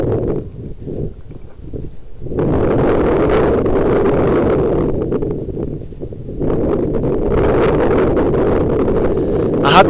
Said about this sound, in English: even though the wind was blowing a gale